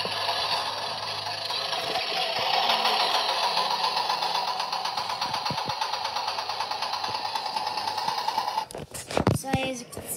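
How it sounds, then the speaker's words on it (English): A tractor engine running close by with a steady mechanical drone and rattle, ending in a few louder clattering knocks. "this is my tractor."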